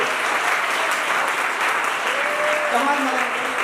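Loud, continuous audience clapping for the anchors at a seminar result ceremony, an even wash of hands with a voice briefly audible over it.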